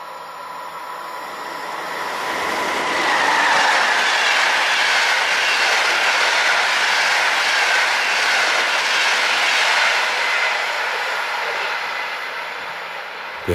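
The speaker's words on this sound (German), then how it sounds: "Ja, jetzt sind wir sogar noch vom Regionalexpress überholt." A German regional express train overtakes on the line, rising from a distant rumble to a loud close pass with rhythmic wheel clatter and rail hiss before fading again.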